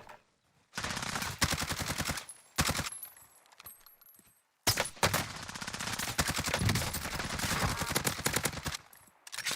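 A sniper rifle shot and rapid assault rifle fire in the shooter game Warzone, loud close bursts of repeated cracks separated by short silences.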